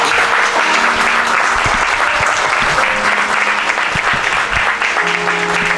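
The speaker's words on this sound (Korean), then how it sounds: "여러분 우리 격려의 박수 한번." Loud, sustained applause of encouragement from a church congregation at an anniversary ordination service, dense clapping with scattered voices beneath.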